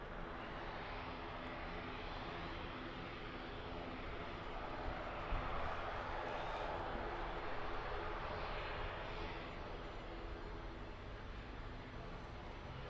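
An Aer Lingus ATR 72 turboprop departing Birmingham Airport for Belfast, a continuous broadband engine drone at moderate distance, building gently toward the middle and steady to the end with no voices.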